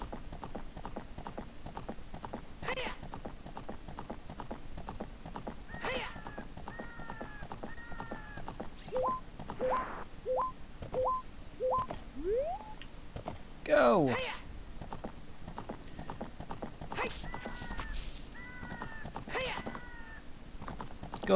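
Horse hooves clip-clopping rhythmically in The Legend of Zelda: Ocarina of Time, a rapid galloping patter with occasional whinnies and game sound effects, moderately close and steady, with someone talking briefly over it.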